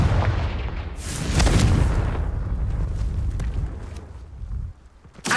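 A Confringo fire spell blasts in Hogwarts Legacy, landing as a loud booming explosion that rumbles for a second or two, then trails into crackling debris and softer impacts, with a sharp burst right at the end.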